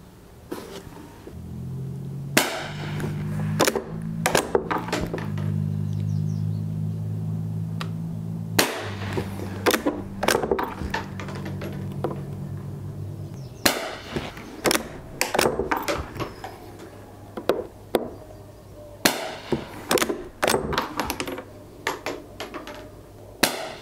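A Winchester Model 1906 rifle fires accuracy shots, giving a series of sharp, loud reports and metallic action clacks at irregular intervals over a steady low mechanical hum.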